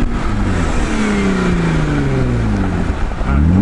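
Jeep engine revving while wheeling through snow on a Colorado mountain pass, a steady loud mid-pitched drone with rising and falling pitch sweeps as the throttle is fed, no talking.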